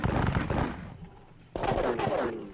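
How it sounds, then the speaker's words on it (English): Grenadier musket volleys in a Seven Years War strategy game crack out as loud, dense bursts of rattling gunfire, one volley, a brief lull, then another close burst. "This detached grenadier unit will fire."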